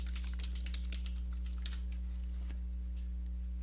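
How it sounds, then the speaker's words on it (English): Fingers typing a username and password on a computer keyboard, a quick run of light clicks that thins out toward the end, faint over a steady electrical hum with no voices. "You will put in your username and your password."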